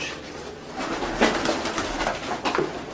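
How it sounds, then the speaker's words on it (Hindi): Soft, repeated pigeon coos inside a pigeon cage, a noisy enclosed space, a few low murmuring calls rising and falling over a steady background hiss. "जब कबूतरों के पिंजरे में हम एंटर हुए तो शुरू में तो कबूतर थोड़ा सा परेशान हो गया"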